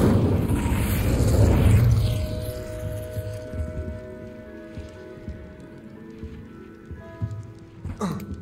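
A burst of fire from the Incendio spell in Hogwarts Legacy: a rushing, booming whoosh that swells and fades over a couple of seconds, with lingering game ambience and tones afterward.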